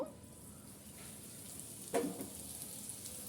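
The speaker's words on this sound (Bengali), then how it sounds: "তারপর আমি অল্প তেল দিয়ে ভেজে নেব" An egg-stuffed paratha fries in a little oil in a pan, a steady soft sizzle running throughout with one brief louder crackle near the middle.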